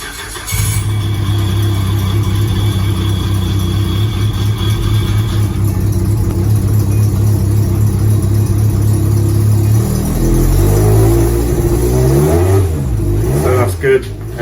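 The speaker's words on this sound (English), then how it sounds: "Good, engine runs" Peugeot 106 Rallye engine running close by, a steady loud idle that then revs up and down in several rising and falling sweeps toward the end.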